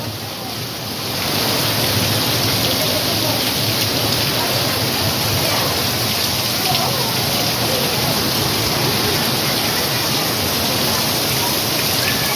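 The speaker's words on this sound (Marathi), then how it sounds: "मुसळधार पाऊस पडतोय" The season's first heavy monsoon rain in Konkan pours down steadily, a dense, loud roar of drops hammering surfaces, continuous throughout without a break.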